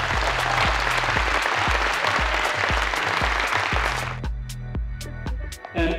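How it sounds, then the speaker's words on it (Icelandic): A crowd at a fitness competition claps loudly and steadily over a pounding bass beat of music, then the applause thins out and the rhythmic thumping beat carries on more clearly. "vil ég biðja ykkur að gefa þeim æðislegt klapp þessum strákum hér"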